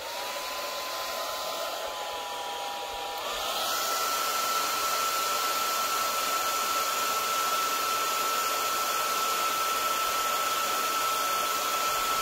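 A heat gun blows a steady, loud airflow to shrink heat-shrink tubing on a lithium battery pack during a repair. The motor's tone steps up slightly a few seconds in, then holds constant.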